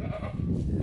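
Goats in a pen in a pine forest give a short, faint bleat, brief and soft against low background rumble.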